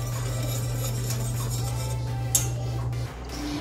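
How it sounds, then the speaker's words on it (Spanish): A utensil stirs sugar syrup in a pot on the stove, giving light scraping and occasional metallic clinks over a steady low hum that cuts out near the end. Nobody speaks. "Vamos a mezclar bien esta almíbar y vamos a dejar que hierva y espese."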